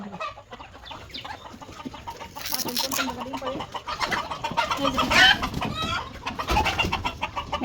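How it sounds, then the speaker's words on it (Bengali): Chickens on a small home farm cluck and squawk busily at feeding time, a dense, continuous flock chatter with occasional louder calls, fairly close and with no talk. "এখন আমি মুরগিকে খাবার দিলাম"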